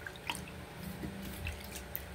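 Water drips and trickles faintly as hands are rinsed after a five-minute hand-softening treatment, giving light, irregular splashes and droplets close by.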